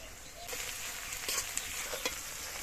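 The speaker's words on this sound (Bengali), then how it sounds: "পেঁয়াজটা হালকা এরকম লাল করে ভেজে নিয়েছি" Onions with a little salt frying in a pan for mutton kasha, a steady close sizzle running throughout with a few brief stirring clatters and spatters over it.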